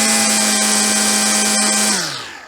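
Petrol grass trimmer fitted with STIHL CF3 Pro trimmer line runs at a steady, loud high whine with strong harmonics, then winds down and fades over the final half second.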